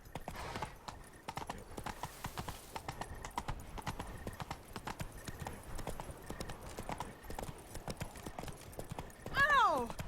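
Roach the horse gallops in The Witcher 3: Blood and Wine, a steady, rhythmic clip-clop of hooves running throughout over game ambience, with a brief whinny near the end.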